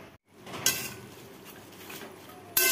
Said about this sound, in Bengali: এখন এই যে ডোগাগুলো দিয়ে দিচ্ছি, এগুলো একটু নাড়া দিয়ে আবার ঢেকে দিব